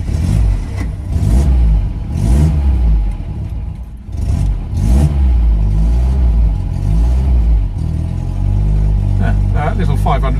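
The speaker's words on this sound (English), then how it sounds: "Little 500cc engine." A 1955 Fiat 500C Topolino's small 500cc engine hums and revs close by, rising and dropping in pitch as it accelerates, with a brief dip partway through.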